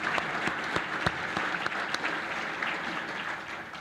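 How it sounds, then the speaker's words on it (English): Audience applause at a Chamber of Commerce annual meeting and awards event: a steady wash of many hands clapping at moderate volume, with a few sharper claps standing out, easing slightly toward the end. "those individuals deserve another round of applause"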